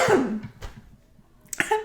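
A few sharp coughs, one rough burst followed by shorter hacking ones after a pause, close and fairly loud.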